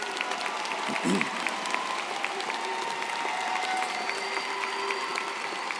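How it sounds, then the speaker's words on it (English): Steady audience applause for Phi Theta Kappa honor students standing at the Eastern Iowa Community Colleges 2025 commencement, a dense, even wash of many hands clapping throughout, fairly close and full, with a brief louder bump early on. "Please join me in a round of applause for our Phi Theta Kappa students"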